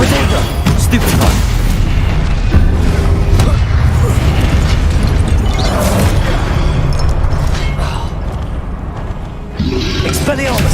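Loud, continuous spell-combat noise from the Hogwarts Legacy video game, a Confringo blast among dense booming bursts and impacts that run steadily throughout.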